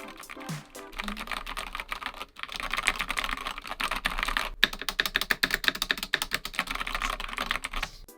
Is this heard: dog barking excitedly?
no